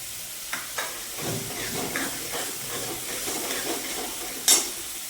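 Chopped onions with salt sautéing in a pan give a steady, soft sizzle and hiss with a few stirring scrapes and one sharp clink near the end, heard alone at moderate loudness.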